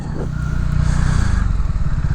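A motorcycle engine drones steadily and loudly up close while riding along a Chicago road, a continuous low rumble with road and wind noise.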